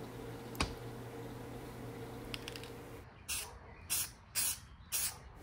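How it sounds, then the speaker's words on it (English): Spray paint mists onto the basket of a Zenith 49-121AB electrodynamic loudspeaker being rebuilt, a faint hiss followed by four short, close spray bursts in an even rhythm. "Just a few light misty coats just around the perimeter itself of the loudspeaker"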